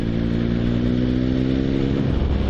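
A motorcycle engine pulling after a gear change, a loud, continuous, steady drone heard close up from the rider's position, with a slight shift in tone toward the end.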